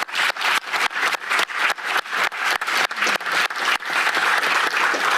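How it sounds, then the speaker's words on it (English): Applause from people attending a Yuba City Council meeting in a room: brisk clapping that starts in rhythmic bursts, then settles into steady, close, moderately loud applause with no talking. "So let's give Lily a round of applause"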